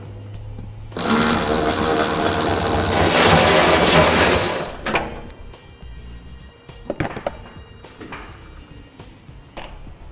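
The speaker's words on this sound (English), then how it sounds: "We'll be taking out that top bolt." A power tool spins out the top bolt of a 2012 Jeep Wrangler rear bumper: a loud whirring run of about four seconds, then scattered metallic clicks and clanks as it stops.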